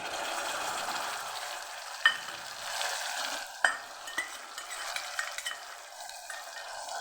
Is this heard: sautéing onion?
yes